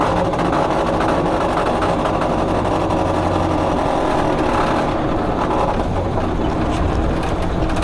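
A 1972 VW Super Beetle's air-cooled engine runs steadily with a dense, rattling mechanical drone, loud and close throughout with no talk.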